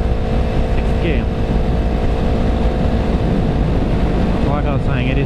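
A Yamaha YZF R3 motorcycle engine holds high RPM in sixth gear, a loud, steady drone with constant wind rush throughout and no pauses.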